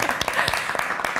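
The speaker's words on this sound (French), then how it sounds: "vos applaudissements" An audience applauds the FC Genelier-Beugnin football team as they arrive with their cup, giving steady, fairly close clapping with distinct individual claps standing out and no clear talking.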